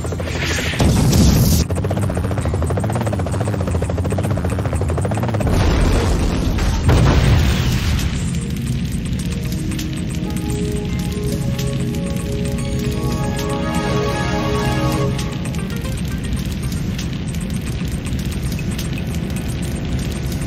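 Helicopter rotor thumping alongside heavy booming explosions in a Knight Rider 2 (2004) video game cutscene, loud blasts in the first seven seconds giving way to a steady chopper drone with no talking.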